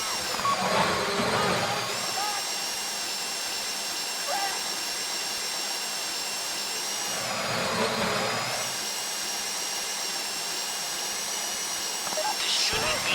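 A drill grinds steadily through a bank heist in GTA V, a continuous mechanical whine that runs the whole time with brief swells of noise, while voices talk over it.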